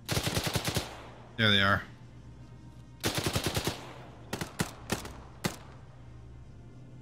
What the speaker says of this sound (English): Oh, they're shooting grenades at us.